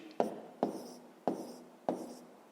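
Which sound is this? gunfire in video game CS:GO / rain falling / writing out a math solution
writing out a math solution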